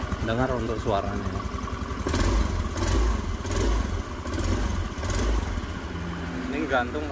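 A motorcycle engine, a restored Beat Pop, idles with a throaty exhaust burble, occasionally blipped, while someone talks over it.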